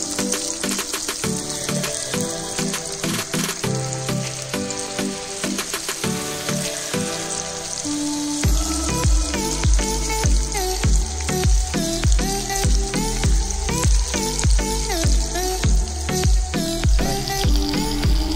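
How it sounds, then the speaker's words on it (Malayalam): Chicken pieces fry in oil to a medium fry for a stew, a continuous loud crackling sizzle that fills the whole stretch over a faint tonal background. "ചിക്കൻ ഡീപ് ഫ്രൈ ആവണ്ട, ഒരു മീഡിയം ആയിട്ട് ഫ്രൈ ആയാൽ മതി."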